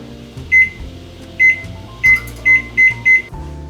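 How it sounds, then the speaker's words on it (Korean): A microwave oven heats a bag of mixed vegetables with broccoli, carrot, lotus root, kabocha squash and cauliflower, a low hum running beneath a string of six loud electronic beeps near the end, with no talking. "전자레인지에 딱 4분만 익히면 갓 찐 것 같아요"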